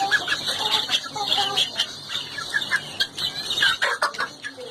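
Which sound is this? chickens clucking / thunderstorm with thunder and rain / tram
chickens clucking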